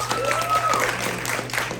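Crowd clapping at a comedy showcase, a steady round of applause from the audience at moderate loudness, with a faint voice and a brief whistle-like tone riding over it early on.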